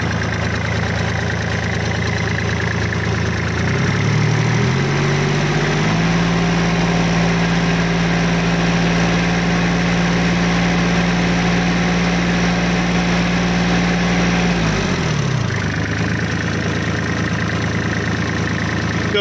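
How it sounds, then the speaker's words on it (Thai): A Kubota 34 hp tractor engine idles steadily nearby with a low throbbing drone, rising to a higher, even rev in the middle before settling back down, with no talking. "รถก็สตาร์ทมาประมาณสัก4นาทีแล้วนะครับ"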